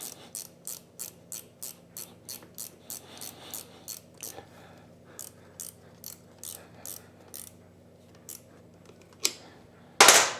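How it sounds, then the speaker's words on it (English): A ratcheting wrench clicks in quick regular bursts while loosening a bolt on the engine of a 1993 Honda XR250L, close and crisp, ending with a louder clunk as the bolt frees. "Maybe a ratcheting wrench though."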